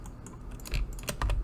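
Several computer keys are pressed in quick, light taps during 3D modelling work in Blender, with a few clustered clicks close to the microphone and no talk.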